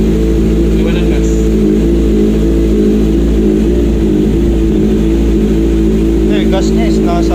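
Kawasaki ZX25R motorcycle fitted with an R9 full titanium exhaust, idling loud and steady up close with a deep continuous engine drone, a slight rise near the end and brief voices in the background.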